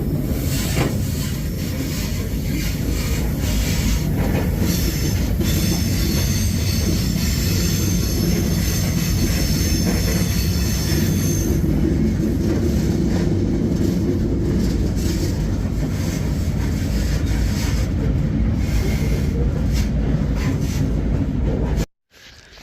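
A freight train rolls over the rails in a loud, unbroken roar, with rumbling wheels, rattling cars and hissing squeals, until it cuts off abruptly near the end.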